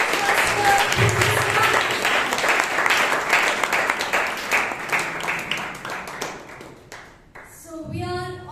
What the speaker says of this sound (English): So let us give a thunderous applause to Toastmaster.